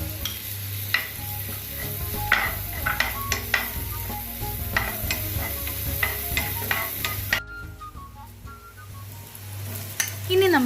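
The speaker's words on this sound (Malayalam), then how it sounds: "ബട്ടർ മെൽറ്റായി വരുമ്പോൾ നമുക്കിതിലേക്ക് 1 ടീസ്പൂൺ ജിഞ്ചർ ഗാർലിക് പേസ്റ്റും 2 പച്ചമുളക് ഇട്ട് ജസ്റ്റ് ഒന്ന്" Ginger garlic paste and two green chillies sizzle steadily in melted butter in a pan, with a spoon stirring and scraping in frequent short clicks. The frying stays close and continuous, then cuts briefly quieter near the end.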